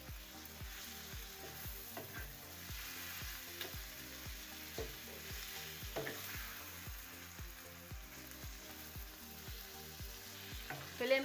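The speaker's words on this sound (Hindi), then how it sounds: "अब इसमें हम मटन का कीमा ऐड करेंगे। और इसको अच्छी तरह से मिक्स करके भूनेंगे।" Mutton mince frying and being stirred in a pan over high flame, a steady close sizzle with a regular beat of spatula strokes throughout, no voices.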